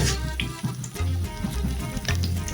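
Battered shrimp tempura fries in oil, giving a dense, continuous sizzle and crackle with pops scattered through it, close and fairly loud.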